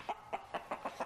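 Six evenly spaced clucks from a chicken, a steady, brisk rhythm of short bursts heard close and alone over a quiet background.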